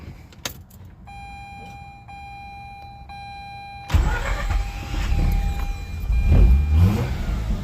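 A car engine being restarted while hot after a 14-mile drive: a quiet interior with a soft chime, then the starter cranks and the engine catches and settles into a loud, close idle with a brief rev.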